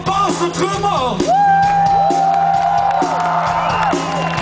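Concert crowd at Roskilde festival cheering for a band's bass player and drummer: loud whoops, yells and shouts rise over a steady crowd roar with a thumping beat underneath.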